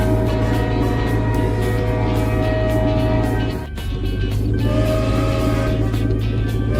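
A glowing train in a Peppa Pig animation, a loud, steady rumbling hum with sustained tonal whistle-like notes, briefly dipping midway before continuing.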